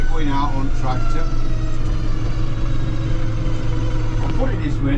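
A tractor engine runs steadily and loudly on a ride out in the North Yorkshire Dales, its low drone constant throughout while a voice talks over it.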